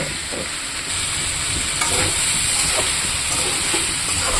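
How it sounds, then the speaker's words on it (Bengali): Soybean chunks, potato and tomato sautéing with spices in a pan, giving a steady loud sizzle and hiss with occasional scraping stirs throughout, and no talking. "একটু কষাবো, সাথে সোয়াবিনটাও দিয়ে দেবো।"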